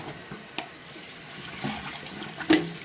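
Liquid oat sediment poured out into a sink, soft splashing and trickling with a few sharp clinks and a louder splash near the end, fairly close and quiet overall.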